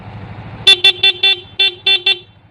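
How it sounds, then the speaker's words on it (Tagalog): The stock horn of a Yamaha NMAX scooter sounds in seven short, loud beeps in a quick uneven rhythm over a low idling engine. "Stock horn."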